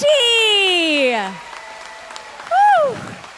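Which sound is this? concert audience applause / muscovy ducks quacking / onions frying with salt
concert audience applause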